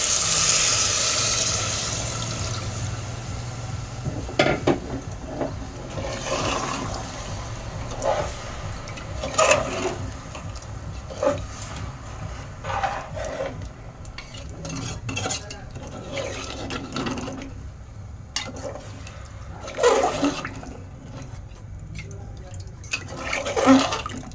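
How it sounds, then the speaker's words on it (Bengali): Water is poured into chicken biryani in a pressure cooker, followed by stirring with clinks and scrapes of a utensil against the metal pot, all close and irregular. "আর এর মধ্যে দিয়ে দেবো পরিমাণ মতো একটু জল"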